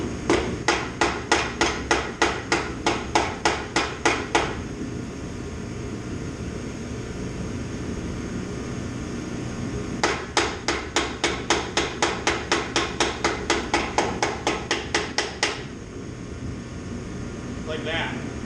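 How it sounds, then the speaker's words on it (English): Piston driven into an engine block through a piston ring compressor on a B20 VTEC bottom end, heard as two long runs of rapid, evenly spaced sharp taps with a quieter gap between them, over steady background hum and occasional talk. "hold the piston ring compressor down as you hit the piston into the motor"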